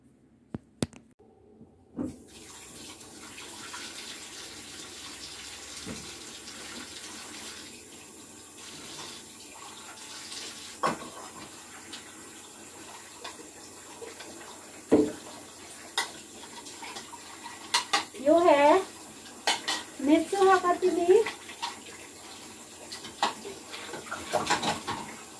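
Tap water runs into a sink while dishes are washed, a faint steady stream with occasional soft clinks and splashes that grow busier near the end.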